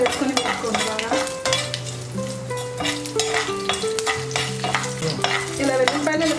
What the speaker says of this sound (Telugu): ఇలా వేగాక కొంచెం వెల్లుల్లిపాయలు వేసుకోండి.